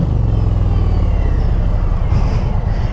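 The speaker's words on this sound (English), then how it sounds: "That engine sounds so good." A 2025 Indian Roadmaster Dark Horse motorcycle's liquid-cooled Power Plus 112 V-twin rumbles steadily and close, a deep, even throb held for the whole stretch with no talking.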